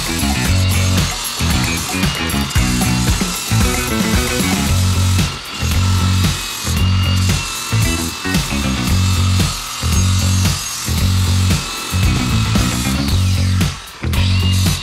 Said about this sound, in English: Might as well try to sharpen the blade a little bit. I've never done that before, but let me get my grinder